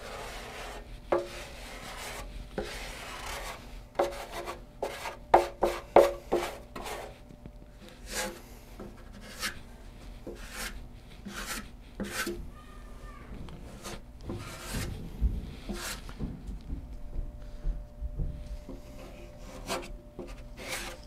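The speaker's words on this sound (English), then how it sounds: "wiping it on like this, squeegeeing off" Pore filler is wiped and squeegeed across wooden steel-string guitar sides, giving close rubbing and scraping strokes in uneven bursts, busier early on, then softer smearing later.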